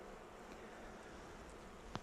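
Honey bees buzzing around an open beehive during a hive inspection, a faint, steady hum of many insects with a brief sharp tap near the end.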